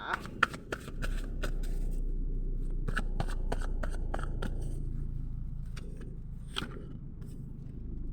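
Tarot cards being shuffled in a series of crisp riffles and snaps, close and fairly loud, with a steady low hum underneath and no one talking.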